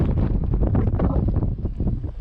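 Strong wind buffets the microphone in heavy, rumbling gusts on a fishing trip, a dense low roar with no voices.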